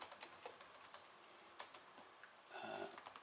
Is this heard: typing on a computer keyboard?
yes